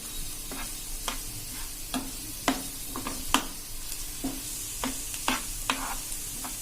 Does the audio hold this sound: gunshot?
no